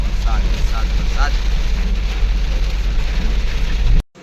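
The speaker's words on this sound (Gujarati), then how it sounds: "ધમ ધમ વરસાદ ચાલુ થઈ ગયો ભાઈ." Heavy rain falls on the road during a drive near Haridwar and Dehradun, a dense steady roar under a low vehicle rumble, cutting off abruptly at the end.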